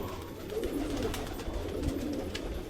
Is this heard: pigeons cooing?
yes